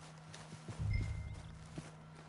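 Horse hooves clip-clop in a short, soft cluster of steps in Red Dead Redemption II, faint under game ambience, with no talk.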